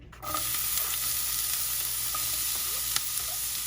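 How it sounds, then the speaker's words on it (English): Onion sautéing in olive oil with lemon juice in a pan, a steady, close, bright sizzle starting abruptly and holding evenly, with a few faint clicks of stirring and no talk. "Here we're going to go ahead and saute some onion."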